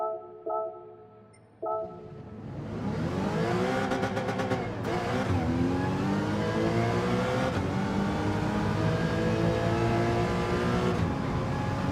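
A Porsche race car engine in Gran Turismo revs up and holds a sustained, loud roar with rising and falling gear pitch sweeps, after a few brief in-game beeps at the start.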